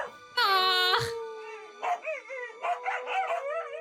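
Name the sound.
dogs barking and howling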